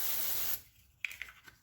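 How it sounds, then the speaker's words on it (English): Brake cleaner is sprayed onto the differential of a 2016 Honda Rancher ATV. It gives one steady, fairly quiet aerosol hiss lasting about half a second, followed by a few faint clicks. "I'm going to spray it down."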